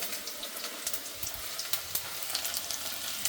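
Meat fries in a home kitchen pan, giving a close, steady sizzle with irregular sharp crackles and spits throughout, and no voices over it.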